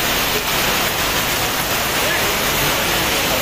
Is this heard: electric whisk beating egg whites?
no